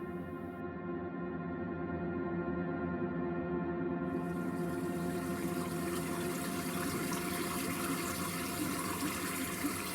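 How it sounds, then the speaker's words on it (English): A small stream running through the town of Nailsworth, a steady, continuous rush of flowing water heard close and fairly loud, with no voices over it. "The innocent stream chatters on and comes now to Cossack Square"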